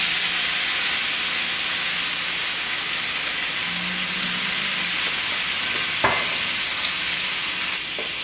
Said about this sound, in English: I'm gonna go in with a little white cooking wine.